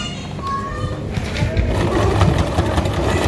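A small domestic sewing machine runs steadily, stitching an elastic waistband on a pair of trousers with a plain flat front. The motor drones low and continuous and close, with a faint hum.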